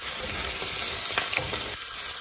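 Bicol Express frying in a pan gives off a steady, close sizzle, with light stirring scrapes and a few soft clatters over a couple of seconds.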